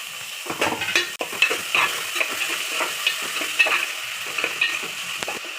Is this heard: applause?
no